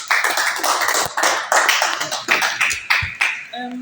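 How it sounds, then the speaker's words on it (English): Clapping from a small audience at an undergraduate student presentation, a few sharp, fairly close claps in an uneven rhythm, tapering off at the end. "Let's not forget to be clapping, please."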